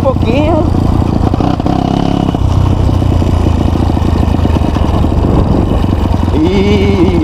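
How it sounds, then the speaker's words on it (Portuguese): Honda CRF motorcycle being ridden, its engine loud and close throughout with a steady running drone and rising revs at the start and end. "a moto tá muito média alta, tá bem elástico"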